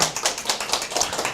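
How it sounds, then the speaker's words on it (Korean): Audience members at a cooking class in a district office clap to welcome the teacher, a small group's quick, fairly even claps close by and standing alone. "박수 한번 쳐주세요."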